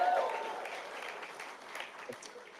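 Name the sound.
applause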